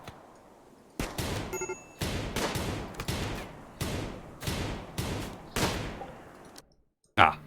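Gunfire in the RimWorld video game: a regular series of about nine sharp shots roughly a second apart, each with a short decaying tail, followed by a brief pause and one final burst.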